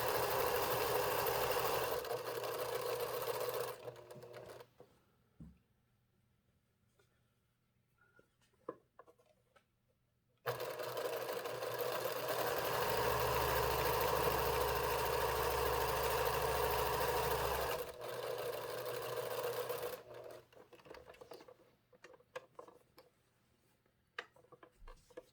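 A sewing machine runs a straight seam along the folded edge of a quilt's hanging sleeve, whirring in two sustained bursts separated by quiet pauses, close and with no talking.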